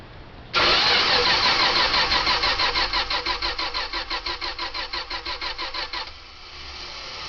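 An engine with the choke set cranks for about five and a half seconds, a loud rhythmic churning of even pulses that slows and weakens toward the end without catching, then stops, leaving quiet background noise.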